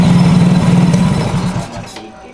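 A Yamaha Mio J scooter engine with a leaking throttle body vacuum hose runs with a loud, close, pulsing drone that wavers unevenly, then fades as it shuts off.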